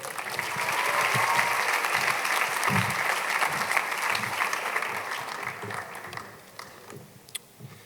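Steady, dense applause fills a graduation ceremony hall as the graduating head students come to the stage, holding strong for several seconds before gradually tapering off near the end.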